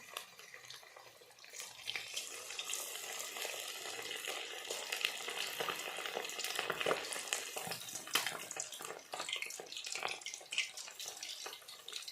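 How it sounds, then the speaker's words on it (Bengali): Chicken pakoras frying in hot oil over a lowered gas flame, a soft, steady bubbling sizzle with scattered crackles, close but fairly quiet. "এবার একটা একটা করে ছেড়ে দেবো আর গ্যাসটা কমিয়ে দিলাম"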